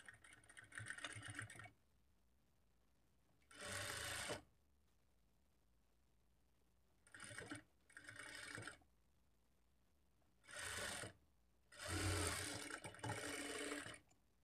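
A sewing machine stitches a hook strip onto a blouse in short separate bursts, about five runs of stitching broken by pauses, each close and steady.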